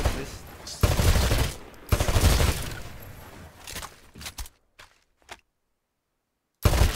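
Gunfire from Titanfall's shooting range rattles out in loud bursts as targets are destroyed. Two long volleys are followed by a few sparse shots, then silence, and a final burst cuts in at the end.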